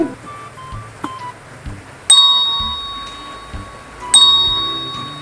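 A doorbell chimes twice indoors, each ring a bright sustained tone that decays slowly, about two seconds apart, over quiet room noise and faint household sounds.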